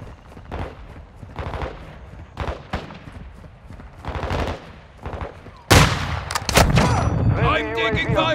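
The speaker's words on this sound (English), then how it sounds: "I'm taking fire!" Gunfire in the Call of Duty Warzone video game, with bursts of automatic fire and single shots crackling throughout, then a sharp loud blast followed by heavier firing and a radio-style voice.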